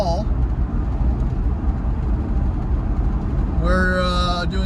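A 1995 Ford Bronco Eddie Bauer accelerating on the road: steady engine and road rumble inside the cabin, with a rising whine near the end, under loud talk.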